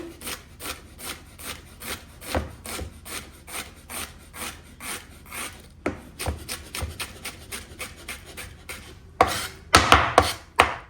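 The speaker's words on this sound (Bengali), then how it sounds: "এখন আমরা একটু শসা কাট করে নিব, জাস্ট চিকন চিকন চিকন চিকন করে" Rapid rhythmic knife strokes slice a cucumber into thin strips on a board, a steady train of close, crisp chops that briefly pauses and then speeds into louder, denser cutting near the end.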